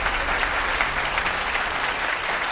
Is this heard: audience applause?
yes